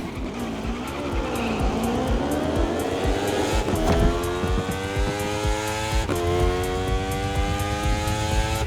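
A race car speeds through turns in The Crew Motorfest video game, the engine revving high and steady while the tires squeal and skid, loud and close throughout.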